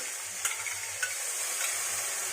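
Onions frying in butter in a pan give a soft, even sizzle, fairly faint and steady, broken by a couple of light clicks from stirring, with no talking.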